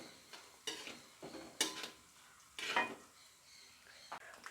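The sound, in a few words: fried onion and ginger being stirred in a pan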